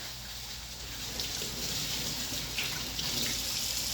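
Tap water runs steadily into a sink while hands are washed, a close, continuous splashing hiss with small shifts in flow and no talking.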